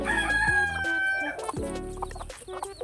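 Rhode Island and native-breed chickens with chicks: a rooster crows loud and close, drawn-out and wavering, with hens clucking and chicks peeping around it in a busy farmyard mix.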